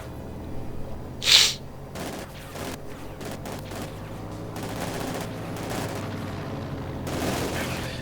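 Bursts of submachine gunfire and other battle shots rattle in a Company of Heroes 2 multiplayer match, with Soviet shock troopers fighting German grenadiers around a village, one sharp loud crack standing out under steady commentary.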